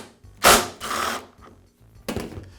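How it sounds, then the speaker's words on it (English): Rear wheel coming off a Toro lawn mower: a few short mechanical clicks and scraping bursts of metal and plastic parts, close and fairly loud, separated by brief quiet gaps. "I'll begin by removing the rear wheels."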